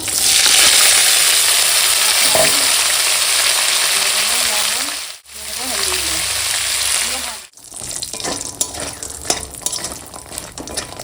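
Chillies hit hot oil for a lentil tempering with a loud, close, crackling sizzle that cuts out briefly twice, then returns as a quieter, spattering fry.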